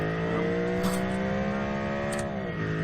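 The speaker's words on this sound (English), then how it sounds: "Powerful engine. Listen to that." A car engine in the video game BeamNG.drive drones steadily, its pitch climbing gradually under acceleration before abruptly dropping off near the end, with sharp clicks along the way.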